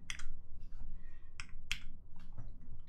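Close, clicky typing on a TGR 910SE mechanical keyboard with Alpaca switches: a quick, uneven run of sharp keystrokes with brief pauses in between.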